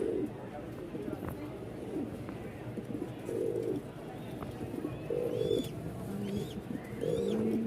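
A male pigeon gives a run of deep, bubbling coos at close range, repeated every second or two with short gaps, while faint chirps from other birds sit in the background.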